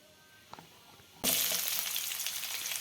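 Tempering seeds hit hot oil for a capsicum and pea curry, bursting into a loud, steady sizzle after a brief quiet moment with a faint clink, the crackling hiss continuing close up without talk.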